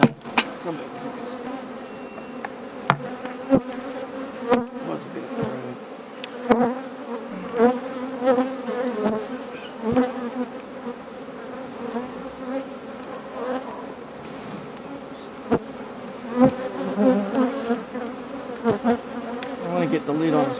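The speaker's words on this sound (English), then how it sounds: "I want to get the lid on as quickly as possible so these bees are trapped in here." Dense, continuous buzzing of many honey bees inside a hive, close and loud, with occasional sharp knocks and taps over the humming swarm.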